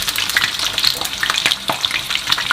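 Dry pork frying in hot oil for Thai stewed pork leg, a loud, close, continuous crackling sizzle with quick pops and spatters and no talk.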